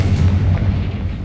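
A deep, rumbling blast from the Confringo spell in Hogwarts Legacy, a loud, low boom that rolls on steadily through the whole moment without a sharp attack.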